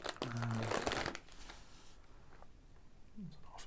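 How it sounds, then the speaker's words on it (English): Plastic bags holding miniature figures crinkle and rustle loudly for about a second, followed by quieter intermittent crinkles and small handling noises. "Sorry for the rustling."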